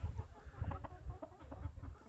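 Chickens clucking softly and steadily as they forage on grass, bugs and weeds, a few birds close by with low, irregular clucks.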